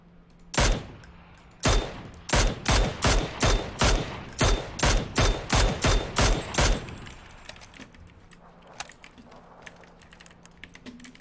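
Rapid gunfire in the video game PUBG: a loud burst of about fifteen sharp, evenly spaced shots over roughly six seconds, close and alone, then quieter scattered clicks and faint movement.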